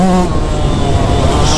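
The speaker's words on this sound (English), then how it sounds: "I gotta be revving it way out like that" A Yamaha YZ125 two-stroke dirt bike engine held at high revs, a loud, close, continuous buzzing drone with a brief lower-pitched start, steady throughout with no talk.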